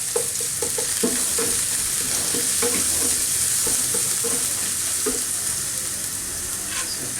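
Finely grated garlic frying in a restaurant wok for a Thai-Chinese mixed vegetable dish, a constant loud hiss and sizzle of hot oil with repeated scraping and clanking stirs from a metal spatula.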